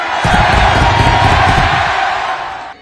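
Kansas City Chiefs fans roar and cheer in a packed Arrowhead Stadium, a loud, sustained wall of crowd noise with whoops that fades slightly at the end.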